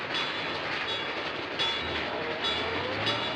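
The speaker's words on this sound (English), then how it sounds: "Hear the train?" A train rolls past a railroad crossing in a continuous close, loud rumble of wheels on rail, with faint ringing tones riding above the noise.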